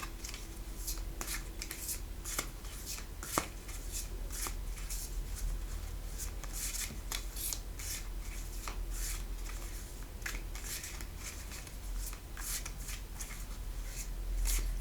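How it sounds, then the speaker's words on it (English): A deck of cards is shuffled steadily at close range, giving repeated riffling flutters and soft slaps throughout with no talking. "I'm just going to spend a minute shuffling and connecting with her spirit"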